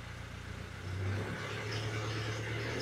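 A car engine in a workshop, checked for a blown head gasket, has its accelerator pedal held down with a stick. It idles, then climbs near one second to a steady, higher revving hum that holds alone to the end.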